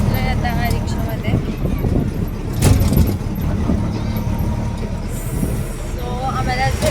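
Riding inside a moving auto-rickshaw: a steady, close engine rumble and road noise run throughout, with a brief louder rattle midway and voices talking over the ride.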